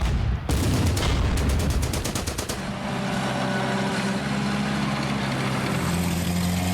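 Anti-tank gun fire in the WWII strategy game Order of Battle, a rapid burst of sharp cracking shots that gives way to a low rumbling engine drone.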